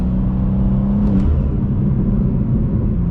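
A 600 hp BMW M2 sliding in snow, its engine a loud, steady, close rumble with continuous revving and no voices.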